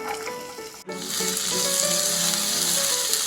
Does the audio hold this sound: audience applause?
no